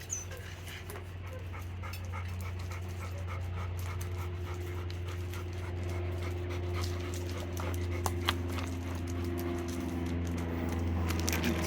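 A tired puppy pants steadily on a hot day, a continuous rhythmic breathing close to the microphone over a low, constant background hum, with no talking.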